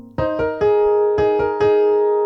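A short piano melody of about six notes, some struck together, ringing clearly and sustaining with no talking.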